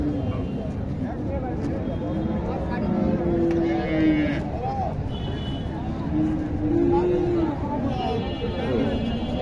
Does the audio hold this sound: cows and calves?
yes